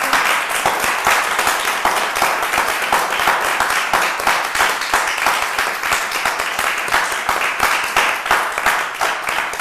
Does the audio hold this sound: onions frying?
no